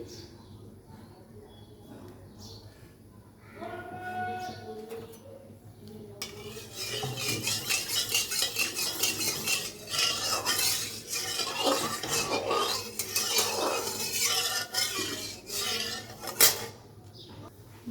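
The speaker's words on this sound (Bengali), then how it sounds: "সাদা তেলের সঙ্গে এখানে ঘি মিক্স করছি" A spatula clinks and scrapes against a metal kadai as ghee is mixed into hot white vegetable oil, quiet at first and then a busy run of repeated metallic stirring taps, with a voice in the background.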